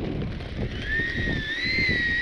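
Heavy wind buffeting a head-mounted camera microphone outdoors at an RC flying field on a windy day, a steady low rumble with a faint whine from the Freewing F-22 Raptor jet over it.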